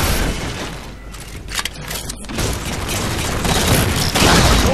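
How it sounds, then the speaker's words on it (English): Gunfire and explosive booms from the video game Halo 4 during an online match, with a scout rifle shot among them, loud and dense over a continuous roar of battle noise. "I'm gonna take a scout shot over there."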